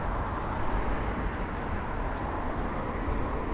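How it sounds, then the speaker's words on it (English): Car traffic passes on a nearby road, a continuous low rumbling roar with steady broadband noise. It stays constant and moderately loud, with no voices over it. "Sorry about the car noise."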